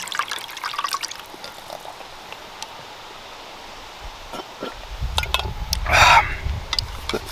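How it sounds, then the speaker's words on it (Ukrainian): Water poured into a Canadian military ration meal pouch: a soft trickle and dribble near the mic, growing into a louder splashing pour toward the end. "я на цей раз побільше додав води."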